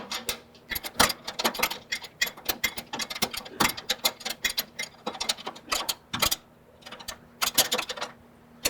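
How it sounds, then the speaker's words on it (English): A 21 mm socket ratchet tightening a bolt on a MacDon FlexDraper header, rapid close clicking in uneven bursts with short pauses between strokes. "So now we'll tighten up that bolt with our 21 mil."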